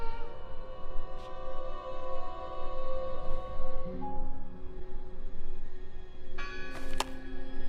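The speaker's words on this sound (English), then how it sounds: "I heard the bell." A bell rings in Draugen, its long sustained tones fading slowly amid quiet ambient noise, with a brighter chiming strike near the end.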